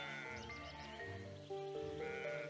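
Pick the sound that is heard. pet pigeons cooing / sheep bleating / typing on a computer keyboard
sheep bleating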